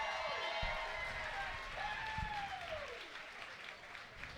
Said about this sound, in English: a round of applause for 2 great fighters and 1 great fight